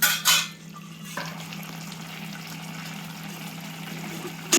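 A pan of onion and koli fish curry simmers uncovered with a soft, steady bubbling hiss after a couple of brief utensil clinks at the start.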